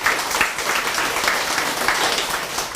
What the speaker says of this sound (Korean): 미리 축하 박수 한번 할까요?